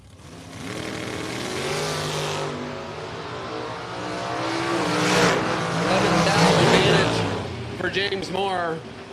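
Camaro drag racing car at the Mutt and Jeff Fall Brawl drag racing event, its engine revving hard in rising, rasping bursts under the constant talk of an announcer.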